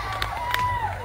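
Comedy club audience at a Pride ABQ standup show giving brief cheers and whoops with scattered claps, a short burst of crowd noise with a couple of sharp accents.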